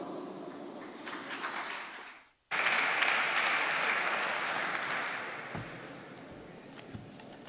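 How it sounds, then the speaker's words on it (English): Audience applause at the G7 ICT and Industry Multistakeholder Conference: steady clapping that cuts out briefly, then returns louder and dense before easing slightly toward the end. "I always appreciate when I get applause before I speak."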